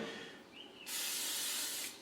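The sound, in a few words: olive oil cooking spray being sprayed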